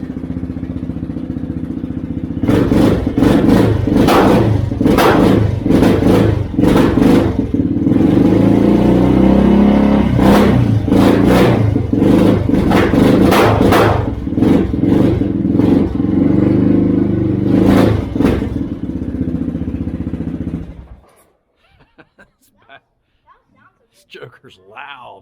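A Yamaha Grizzly ATV engine roars loudly and close, revving hard in repeated surges for about eighteen seconds, then cuts out abruptly to near silence.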